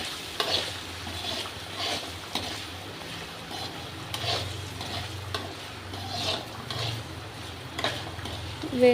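Potato and tomato pieces frying on low heat in a pan while being stirred: soft scraping strokes at intervals over a steady faint sizzle, heard alone at low volume.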